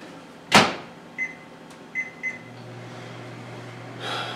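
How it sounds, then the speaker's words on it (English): A microwave oven heating a lemon: a sharp door thump, then three short electronic beeps from the keypad, followed by a steady low hum as the oven runs, with a soft rattle at the end. "let me throw my lemon in the microwave for 25 seconds"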